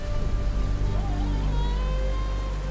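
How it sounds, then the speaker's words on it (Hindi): Steady rain falls in a mythological drama scene, a continuous dense hiss with a low rumble beneath and faint tonal music in the background. "वर्षा तो थमने दीजिए।"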